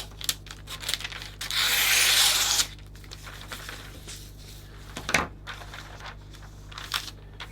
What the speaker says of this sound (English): I want to fold the craft paper over